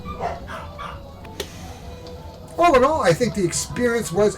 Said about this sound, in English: You can hear some dogs behind me.